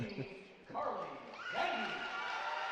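Crowd noise swelling in a gym at a Section V Girls Class C2 basketball championship between South Seneca and Perry, a loud sustained roar of cheering that rises twice and holds, with an announcer talking over it.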